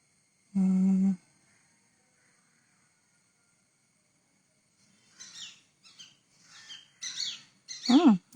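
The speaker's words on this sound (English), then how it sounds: "Parrots for company." Parrots call: a loud, short tonal squawk up close, then after a pause a series of scratchy chirps and harsh screeches building in loudness near the end.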